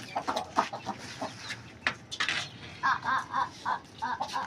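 A rooster clucks in short, repeated bursts close by in a cage during cage cleaning, with scuffling and a few sharp knocks around it.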